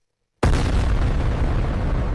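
A sudden, massive blast bursts in after a short silence, then a dense, roaring rumble sustains loudly without fading.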